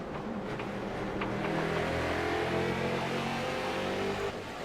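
Zach Coyer's number 81 race car on a Pathfinder chassis laps the track, its engine revving and accelerating at a moderate distance, fairly faint, with no talk.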